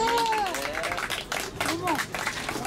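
Audience applause at a summer outing of a Korean art performance troupe, a dense patter of claps mixed with lively voices and cheering-like tones over steady crowd noise.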